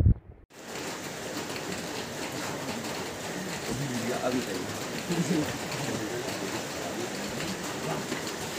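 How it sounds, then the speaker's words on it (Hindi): Rain falls steadily in the Parvati valley of Himachal Pradesh, a dense even hiss that starts abruptly after a short moment of silence. It continues at an unchanging moderate level with no clear voices over it. "यहाँ बारिश हो रही थी अभी"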